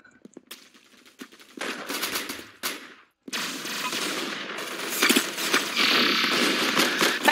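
Rapid bursts of automatic gunfire from a weapon in the Roblox-style shooter Arsenal, clipped game sound effects with short silences between volleys, loud and close.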